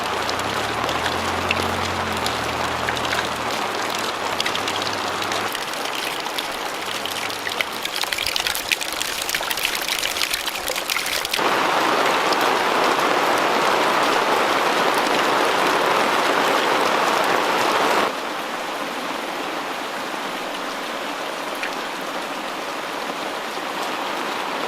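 Steady rain pours down, a continuous hiss of water on surfaces, changing in tone and loudness partway through with a faint low hum early on.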